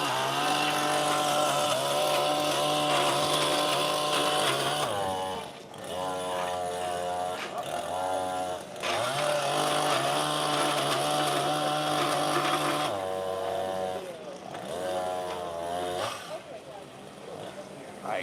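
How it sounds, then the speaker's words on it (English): A Milwaukee hedge trimmer running at a live tool show, a loud buzzing motor whine that revs up and down in bursts, with people talking over it. "they're doing hedge trimming."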